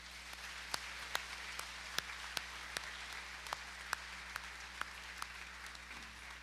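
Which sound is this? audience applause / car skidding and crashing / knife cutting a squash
audience applause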